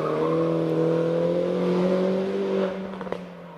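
A Mini Cooper S with a blown 1600 engine races up the Prescott hill climb, its engine droning steadily at high revs before fading away with a few crackles as it recedes.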